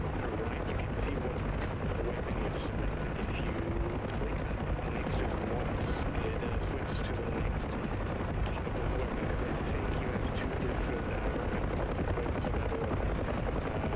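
Steady, loud gunfire from a DCS World combat flight simulation, a rapid unbroken stream of sharp cracks over an engine drone that runs for the whole stretch. No talk is heard.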